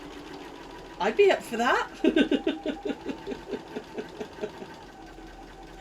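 A sewing machine stitches a fabric key cover, sounding as a rapid run of stitches and then a series of evenly spaced mechanical pulses, with a person talking briefly over the start.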